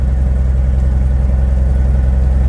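Close and loud, a small airplane's piston engine idles with a steady low throb and even pulsing rhythm throughout, with no voices.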